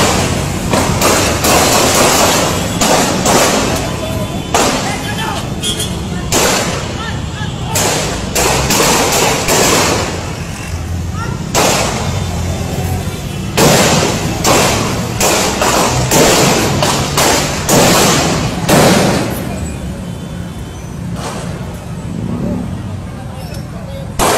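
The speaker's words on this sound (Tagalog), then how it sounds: "Nagbabarilan po." Gunfire in a police and drug-enforcement buy-bust shootout: repeated sharp bangs, some in quick clusters, ring out over street noise while people talk nearby.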